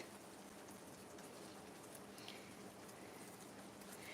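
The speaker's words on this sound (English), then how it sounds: "Can you hear that rain?" Rain falling steadily, a soft continuous patter and hiss of drops with no clear voices, quiet and even for the whole stretch.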